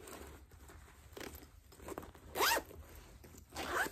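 A bag zipper is pulled in two quick, raspy bursts, close by, with soft handling rustles in between.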